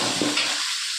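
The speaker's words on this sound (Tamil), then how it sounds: "இப்போ இந்த வடகத்தை போட்டு தாளிச்சிக்கலாம்." Vadagam is fried in hot oil to temper cooked greens, producing a short burst of loud, bright sizzling with a brief stirring scrape.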